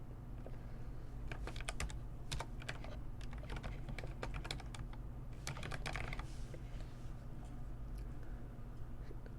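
Rapid keystrokes on a computer keyboard as a project name is entered, coming in bursts with short pauses over a steady low hum.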